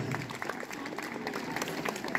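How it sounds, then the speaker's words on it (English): Applause from students at a school assembly honouring smart students, a moderate wash of scattered claps at some distance, steady throughout with faint crowd noise. "Give her a big round of applause."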